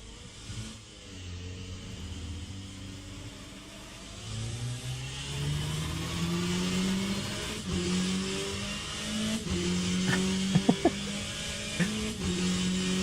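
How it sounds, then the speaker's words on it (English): Onboard engine of a Porsche RSR race car in rFactor 2, racing in the rain: a steady mid-pitched drone climbing and dropping through gear changes as it accelerates, with brief sharp pops near the end. "We can have a listen from the onboard of the RSR."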